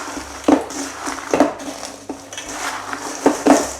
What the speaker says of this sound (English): Mix all of your dry ingredients together.